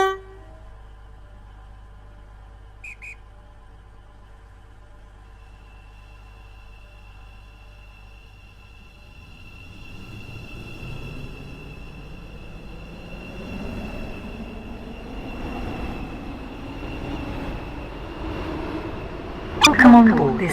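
A class 700 train passing St Helens Bridge in a railway video game, rising from near silence into a swelling rumble and whoosh over the last half, with a steady tone and a brief sharp burst near the end.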